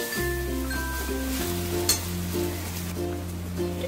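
Taro leaves (kochu shak) sautéing in a pan give a steady, soft sizzle that sits under prominent background music throughout, with an occasional faint clink.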